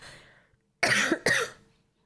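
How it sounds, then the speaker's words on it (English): Two harsh coughs in quick succession, close and loud, following a faint breathy sound. "I'm so sorry for my coughing."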